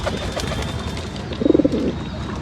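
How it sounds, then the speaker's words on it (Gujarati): A male pigeon coos in a short, rapid burst of low throaty pulses against a steady background hum. "આ નર છે અને આ માદી છે."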